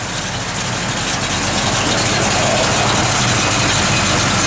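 A 1969 AMC AMX muscle car with a performance cam idles with a deep, steady rumble and a slightly lumpy beat, loud and close, with no voices.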